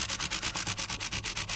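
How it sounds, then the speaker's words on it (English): Sandpaper rubs back and forth across a cracked wooden guitar top in a fast, even rhythm of raspy strokes, close and steady with no voices. "sanding on this guitar"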